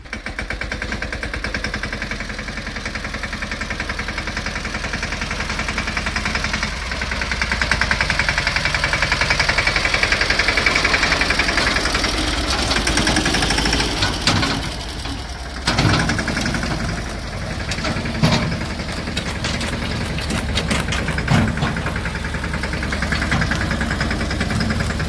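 A tractor engine runs steadily for a long stretch, a loud, close diesel idle with a knocking throb that swells and dips slightly, with no voices over it.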